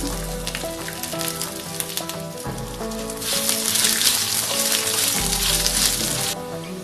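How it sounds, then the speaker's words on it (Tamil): Ginger frying in hot oil with dried red chillies and tamarind in a pan for ginger chutney. A steady, close crackling sizzle that swells louder partway through, with no talk. "இது எல்லாத்தையும் 2 நிமிஷம் நல்லா வதக்கிக்கலாம்"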